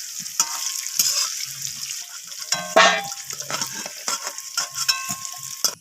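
Potato pieces frying in hot oil for a spiced chicken dish, with steady close sizzling and bubbling broken by occasional stirs and scrapes in the pan, no voices.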